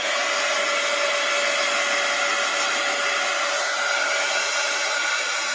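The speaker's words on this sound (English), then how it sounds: "Heat gun alert." Heat gun blowing hot air at an art journaling desk, a steady loud whooshing hiss that runs unbroken throughout.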